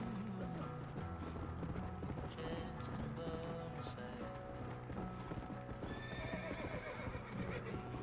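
A horse gallops in the Red Dead Redemption video game, its steady clip-clop hoofbeats continuous and fairly loud, with occasional whinnies under in-game ambience and some talk.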